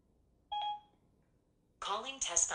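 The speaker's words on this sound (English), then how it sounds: "Siri can now place phone calls on speakerphone" An iPhone running iOS 8.3 has Siri place a call on speakerphone, giving a short two-tone dialing beep. Then comes a burst of synthetic-sounding voice.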